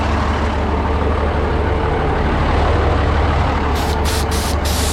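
A farm truck's air tank is drained of moisture, a loud steady hiss of escaping air over a low engine rumble, with a few short bursts near the end.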